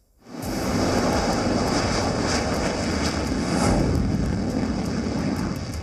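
Loud sustained roar of Sukhoi-30 and Mirage 2000 fighter jets rises quickly from near silence into a broad, steady blast of engine noise that holds at full strength to the end.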